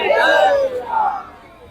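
Crowd whoops and yells at a Ram temple celebration gathering in Dadar, loud and close for about a second, then quickly fading, with voices mixed into the cheering.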